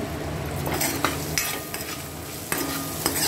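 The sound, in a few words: tempering spices with ginger and peanuts frying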